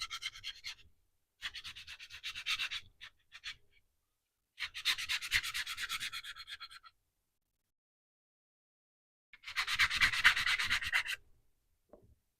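A belt sander fitted with a coarse belt, around 60 to 80 grit, sands a wooden bandsaw box. Four separate bursts of loud, gritty abrasion come through, with quiet pauses between them.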